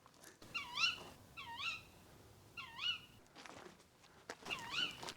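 At midnight outside a house, an owl gives three drawn-out, wavering shrieks in slow succession, fairly faint and distant, followed by a pause and a fourth call, with faint background rustle.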